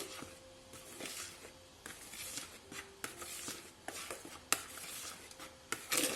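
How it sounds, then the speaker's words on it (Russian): Sugar being stirred into a cheesecake filling for a Russian royal vatrushka, soft quiet scraping and tapping of a utensil against a bowl in an uneven rhythm, with a few sharper knocks. "И вот так у нас сахар. Все мы это смешиваем."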